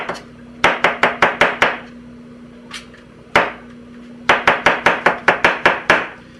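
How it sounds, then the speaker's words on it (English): Mushrooms sliced with a knife on a cutting board: rapid bursts of sharp, evenly spaced chops in two runs of about six and nine strokes, with a few single cuts between, close and loud, no talking. "Slice these down as thin or as big as you like"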